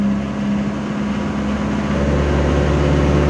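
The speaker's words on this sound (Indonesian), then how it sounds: "Di depan ada truk muatannya melebihi tonase ya lur." Overloaded truck piled with belkor cargo driving along Jalan Sedayu in Kalibawang, its engine giving a steady low drone and heavy rumble that swells louder halfway through, close by and continuous with no talking.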